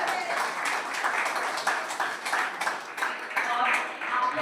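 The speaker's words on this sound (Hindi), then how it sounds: "एक बार जोरदार ताली हो जाए।" An audience at a therapy session claps loudly and continuously, a dense sustained burst of many hands with voices murmuring underneath.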